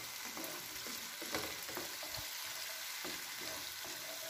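Pinipig frying and being stirred in virgin coconut oil, a steady close sizzle with scraping stirs and occasional clinks throughout, no talking.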